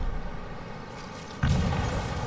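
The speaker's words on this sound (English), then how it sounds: "There was just a huge explosion." A huge explosion in Skyrim: a sudden deep boom that bursts in partway through, then rolls into a sustained low rumble over the game's ambient background.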